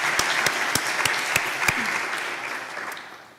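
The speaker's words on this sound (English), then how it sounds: "And big applause." Applause from an audience at a forest management event, a dense steady wash of many hands with a few sharper claps standing out near the start, fading gradually toward the end.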